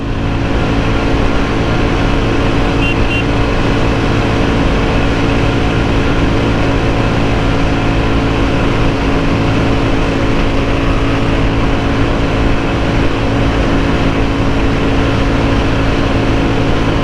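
Royal Enfield Bullet 350 motorcycle at its top speed of about 120, a loud, steady engine drone mixed with rushing wind that holds unbroken throughout.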